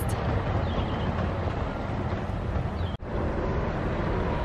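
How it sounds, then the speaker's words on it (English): A Disney monorail train passes by fast near the Polynesian Resort, a loud, steady rushing rumble heard close up outdoors, holding for several seconds with a brief dip partway through. "Oh, there's a monorail. I turn around and here it comes."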